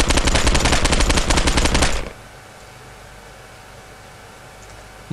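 A rapid burst of automatic gunfire in the video game Postal 2: Apocalypse Weekend rattles loudly for about two seconds, then cuts off to quiet background hum.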